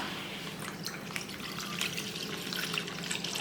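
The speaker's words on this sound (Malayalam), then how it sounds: "പാല് ചേർത്ത് കൊടുക്കാം." Milk is poured into a pan, giving a faint, steady liquid trickle with a few small drips and no voices.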